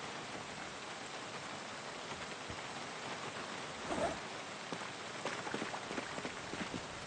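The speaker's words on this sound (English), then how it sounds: "I don't know how much more rain is ahead of us here" Steady rain in the video game Project Zomboid, a soft continuous patter on surfaces with scattered louder drops, quiet and even throughout with no voices.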